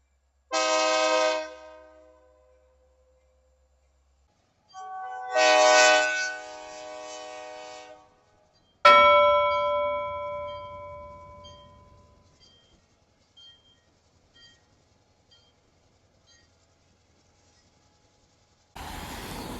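Locomotive ELS 400 rolls south through Iron Mountain, Michigan, sounding loud, long horn blasts with pauses between them, then a burst of wheel and rail noise fading into scattered clanks, with a last rumble near the end.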